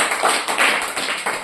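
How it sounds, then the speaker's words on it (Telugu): A church congregation claps loudly together in a steady, rapid rhythm of sharp, bright hand claps, filling the room with no voices heard over it. "గట్టిగా చప్పట్లు కొట్టి దేవుని నామాన్ని మహిమపరచండి"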